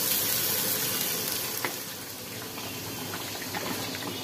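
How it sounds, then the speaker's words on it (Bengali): Onion paste and spices sautéing in a pan, giving a steady, close sizzle and frying hiss with occasional stirring scrapes throughout, alone without voices. "কষাতে কষাতে কালারটা কত সুন্দর চলে আসছে"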